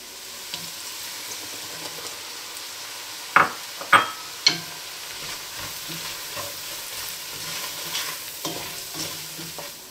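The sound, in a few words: flour stirred into softened aromatics to make a roux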